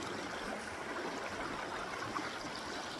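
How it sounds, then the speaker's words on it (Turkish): Flowing water from a stream beside a hiking trail babbles and rushes steadily nearby, a constant soft gurgle with no voices. "çok güzel bir su akıntısı dere şöyle şıl akıyor"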